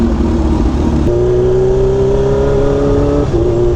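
A Kawasaki Ninja H2 motorcycle engine revs at low RPM in an echoing space, its loud, steady drone rising in pitch, holding, then dropping back slightly near the end.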